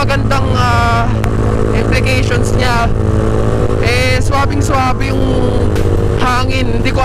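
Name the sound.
motorcycle engine with open muffler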